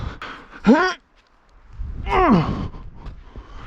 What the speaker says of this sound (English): I'm breathing into the microphone, it probably sounds awful